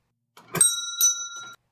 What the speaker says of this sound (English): That was when I heard the bell over the door,